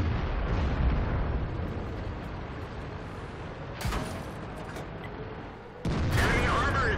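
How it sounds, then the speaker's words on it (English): A tank cannon shot from the World of Tanks game booms loud and close over a heavy rumbling engine drone, followed by a second sharp blast near the end. "That shot obviously hit the grass."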